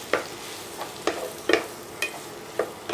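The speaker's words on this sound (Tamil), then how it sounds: "இப்போ இதை நல்லா வதக்கிக்கலாம்." Grated ash gourd, squeezed but still a little moist, being sautéed in a pan for halwa, giving a soft steady hiss with about seven sharp scraping stirs of a spoon spread unevenly through it, close by and with no talking.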